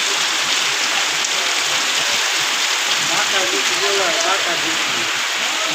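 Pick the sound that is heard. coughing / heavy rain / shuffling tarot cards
heavy rain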